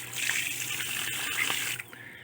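Water gushing from a breeding tank drain valve opened briefly, a close, steady rushing splash that cuts off sharply near the end, leaving a faint trickle.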